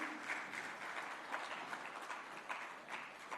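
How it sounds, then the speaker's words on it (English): An audience at the BusinessLine MSME Growth Conclave 2024 applauds after an address: steady, dense clapping from a full room that holds at an even level for several seconds, with no talking over it. "a big round of applause to sir for that very stimulating address"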